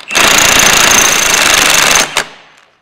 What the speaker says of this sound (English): And then we're going to hammer it and hold that.